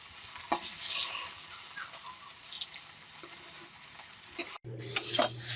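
Fish sizzling as it fries in a pan for a Bengali mustard-paste fish dish, with soft stirring scrapes and a few clinks throughout, ending in a louder, brighter burst of frying.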